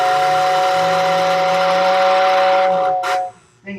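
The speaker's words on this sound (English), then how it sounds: "Want me to tell you the best part of the 2046? The whistle? Let's hear that whistle" Big Boy steam locomotive whistle, likely the 4014 or 4024, blowing one long loud sustained steady tone for about three seconds and then cutting off, with steam hiss and a short burst after it and no talking.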